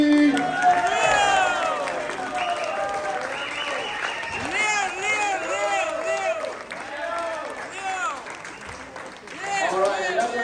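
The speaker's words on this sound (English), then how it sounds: "Big round of applause for Jim" A crowd at a Republican California governor candidates' event in Laguna Hills claps and cheers for a candidate, steady applause with some whoops, with a voice speaking briefly at the start.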